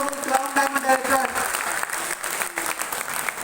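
Loud applause from an audience at a Modicare event honouring a Crown Diamond Director, dense clapping mixed with voices and some music that tapers off after a couple of seconds.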